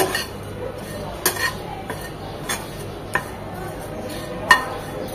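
Dried fish (shutki) fries in a pan with a steady, faint hiss underneath and a few scattered metal clinks from a utensil against the pan.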